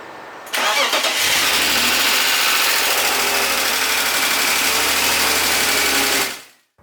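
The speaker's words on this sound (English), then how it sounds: "I gave it a crank and it started right up" A BMW M3 engine, revived after its fuel was drained and a new ignition switch fitted, cranks briefly and catches, settling into a loud, steady running note close by that holds for several seconds before cutting off.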